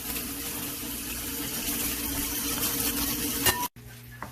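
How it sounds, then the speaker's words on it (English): Beef, lamb and bison cook in a large electric skillet as homemade dog food. A steady sizzle and frying hiss continues throughout, then cuts off abruptly near the end. "we have our beef, lamb, and bison cooking here in the big electric skillet"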